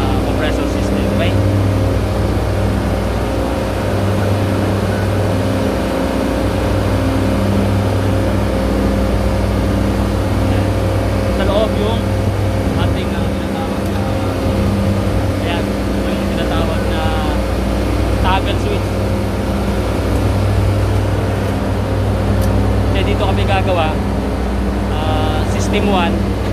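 An air conditioning compressor system on a work site drones loudly and steadily with a deep constant hum, occasional faint clanks and speech over it.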